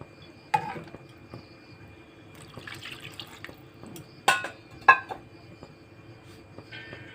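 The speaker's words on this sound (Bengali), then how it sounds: "আর একটু জল দেবো" Water splashes into a pot of Bengali fish curry with potatoes and brinjal in a few short, separate pours, close by, with small clatters between them and no talk.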